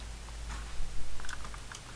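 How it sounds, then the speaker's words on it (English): Keys clatter on a computer keyboard during a Minecraft parkour session, a short burst of quiet clicks and taps at close range with no voices. "What are you typing?"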